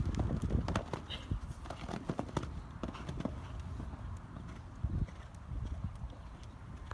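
Horse hooves thud and clip-clop steadily across the ground as a horse jumps through a low gymnastic line of fences, with irregular footfalls and some faint background noise.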